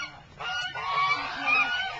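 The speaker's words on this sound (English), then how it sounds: "Ugly duck with the red head." A red-headed duck at a nature centre honks in a loud, close, continuous run of nasal calls, with wind or background noise underneath.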